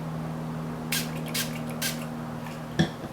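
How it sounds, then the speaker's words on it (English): Three quick pumps of a hair shine spray bottle hiss in succession against a steady low hum, followed by a soft tap. "I'm going to spray 3 pumps."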